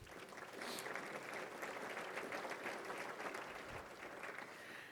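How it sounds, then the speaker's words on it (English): Applause from the audience at an economic development group's annual meeting, a steady wash of many hands clapping at moderate distance, sustained throughout, with no talk over it. "Let's give our member investors a round of applause."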